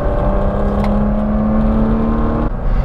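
An Aston Martin Vanquish accelerating, its engine a loud, close, sustained tonal drone that holds steady, then dips briefly and resumes.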